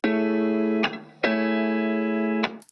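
Two sustained, heavily processed electric guitar notes ring out, each cut off sharply, with a thick, swirling effected tone and a brief pause between them.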